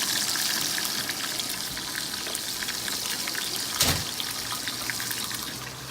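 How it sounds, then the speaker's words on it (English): A freshly caught fish seasoned with salt and pepper fries in a pan, giving a steady, faint crackling sizzle with one brief clatter near the end. "just letting it fry right here"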